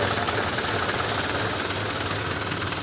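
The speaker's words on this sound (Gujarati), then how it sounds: "ત્રણેય દવા ભેગી કરીને ટ્રેક્ટરના પંપ દ્વારા સ્પ્રે કરવાનું હાલમાં ચાલુ છે" A tractor-driven pump runs steadily, spraying a herbicide mix of three chemicals over a groundnut field. The close, rumbling engine drones continuously with no pauses.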